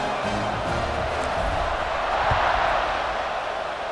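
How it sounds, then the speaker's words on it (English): Stadium crowd noise from College Football 26, a broad steady roar of cheering fans during a kickoff, loud and continuous with no clear voices standing out. "this crowd is feeling themselves after that last drive"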